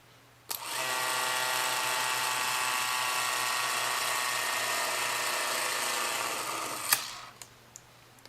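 A Revere 88 8mm cine camera's clockwork mechanism whirs in a fast, even buzz for about six seconds, starting and stopping with sharp clicks, close by and moderately quiet.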